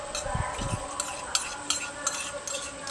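A spoon stirs thickened milk in a bowl, giving a few soft scraping strokes and light clinks spaced through a short stretch, close and fairly quiet.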